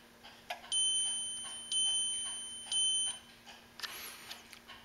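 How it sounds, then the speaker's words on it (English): A waffle maker's done alarm sounds as three evenly spaced electronic beeps, each about half a second long, faint and clean in a quiet room. "So that's the alarm."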